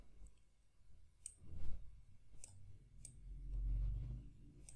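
A computer mouse clicks sharply several times at roughly regular intervals, close and quiet, over soft low background noise while someone works in PowerPoint.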